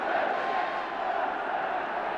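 Loud, steady roar of a football crowd at West Ham v Everton, a dense wash of voices that holds at the same level throughout without pause.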